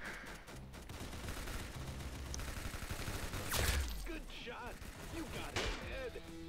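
Bursts of gunshots in Roblox Arsenal ring out under steady game noise, with a louder volley midway and a few scattered shots after, while a player talks throughout.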